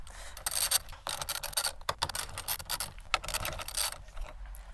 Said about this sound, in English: get in here with these 10mm bolts, and we're going to take all 4 of them off